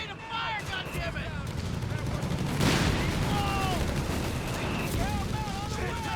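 A Sherman Whizbang rocket launcher firing in a Company of Heroes 3 battle, a dense rumbling barrage of blasts swelling to a loud burst midway, amid ongoing battlefield noise with faint shouted voices.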